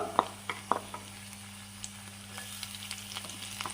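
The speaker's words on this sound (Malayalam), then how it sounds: "ഇനി അതിലേക്ക് നമ്മൾക്ക് മൂന്ന് വെളുത്തുള്ളി അല്ലി ചെറുതായി മുറിച്ചത് ഇട്ട് കൊടുക്കാം" Three chopped garlic cloves hit a pan with ginger and green chili for an egg dish, giving a quiet, steady sizzle punctuated by a few sharp clicks of stirring, with no talking.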